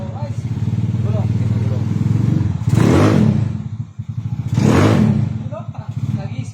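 A repaired Honda Mio Sporty scooter engine is test-revved, idling with a chattering putter and twice surging into loud, rising revs before dropping back, close to the mic.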